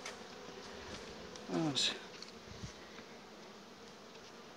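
Honeybees buzz softly around an opened beehive frame, with a louder bee passing close by midway, and a brief word spoken over the hum.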